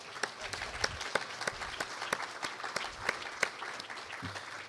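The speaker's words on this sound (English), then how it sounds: "Can we get one more round of applause from the provost?" An audience at a summer research academy event gives a round of applause for the provost, with steady, moderately faint clapping made up of many overlapping hands and a few sharper individual claps standing out.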